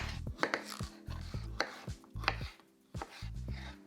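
A knife chopping cucumber on a cutting board, a string of crisp close thuds in uneven quick bursts with brief gaps, fairly quiet and alone.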